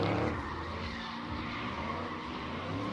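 Tires skid and squeal on a supercharged 5.4 Ford GT500 drift car at a drift pit test-and-tune day, a sustained rough scrubbing roar mixed with engine noise, loudest at the start and then steady.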